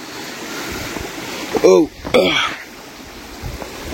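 A constant rushing roar of falling water fills the background, with a few brief voices rising over it midway.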